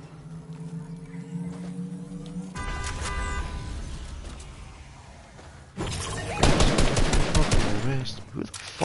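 Video game gunfire on a PS5: bursts of rapid automatic shots and single reports, quieter at first and then a loud, dense volley near the end, with talk over parts of it.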